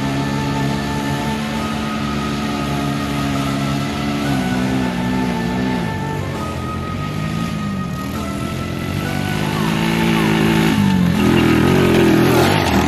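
A dirt bike engine runs with its throttle taped open, droning loud and steady at high revs and rising further toward the end.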